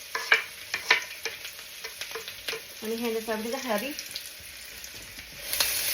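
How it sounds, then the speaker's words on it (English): Onions and peppers sizzle and crackle in hot olive oil in a skillet with scattered pops and stirring clatter, while a person speaks briefly over it, close and fairly loud. "put in our onions into that hot oil. The peppers. And hear that sizzling"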